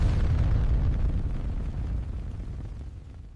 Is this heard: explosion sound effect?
yes